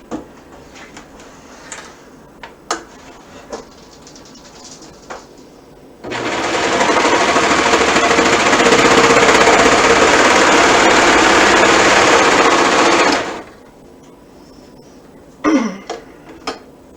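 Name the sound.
sewing machine stitching the short edge of fabric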